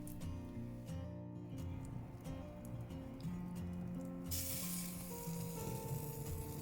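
Tilapia sizzling on a barbecue grill, a soft steady hiss beneath prominent background music that grows brighter and louder in the second half.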